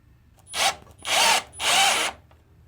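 A power drill drives Tapcon concrete screws into a brick wall while a TV is mounted, giving three short whirring bursts close by, each about half a second long, with brief pauses between them and no talk.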